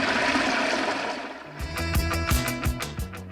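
A toilet flushes in a bar bathroom. A rushing wash of water builds, then a rhythmic gurgling swirl pulses close by for the rest of the flush.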